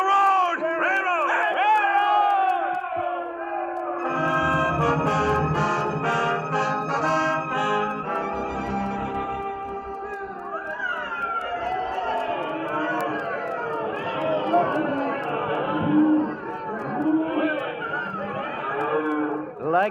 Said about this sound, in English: People cheering and yelling